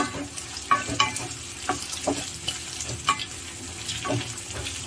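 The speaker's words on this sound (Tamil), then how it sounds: "இப்போ நம்ம கட் பண்ணி வச்சுருக்கிற வெண்டைக்காவை ஆட் பண்ணிக்கலாம்." Chopped okra fries in hot oil, a steady crackling sizzle with scraping stir strokes and occasional sharper pops, close and moderately loud, with no voices.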